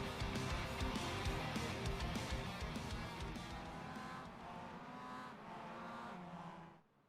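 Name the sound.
iRacing pace car driving around circuit, from a video game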